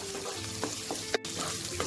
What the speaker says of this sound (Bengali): এটাকে আপনাদের খুব ধৈর্য সহকারে মশলাটাকে কষাতে হবে।